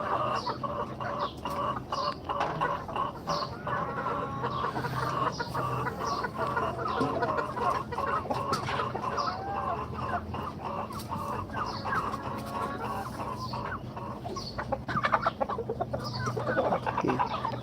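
Large tiger chickens, each around three to four kilograms, cluck steadily on a poultry farm. Overlapping calls come from several birds nearby.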